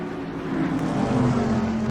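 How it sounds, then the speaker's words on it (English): A NASCAR stock car's engine keeps running in a Daytona 500 racing video game, a loud rough continuous drone with a gritty low growl over two seconds, no voices. "so far that motor is still fired up. It's still going, and Braden Lane is going to be rejoining"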